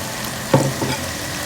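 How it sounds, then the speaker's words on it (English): Shrimp and fish drop into a sizzling eggplant stew, giving a sharp splash-hiss followed by steady frying crackle and a brief second stir, close and alone. "So I will now add my shrimps and my fish."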